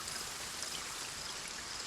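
Steady soft rain patters and hisses in the Foundation video game, a faint even wash of falling water with no voices.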